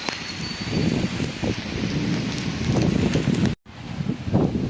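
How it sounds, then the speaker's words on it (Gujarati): Heavy evening rain and cold, gusty wind at Lushala village during a storm, forming a loud, steady broadband roar that drops out for a moment near the end and then resumes. "હાલ ફૂલ વરસાદ છે અત્યારે, અને ચારે બાજુ પવન ઠંડો"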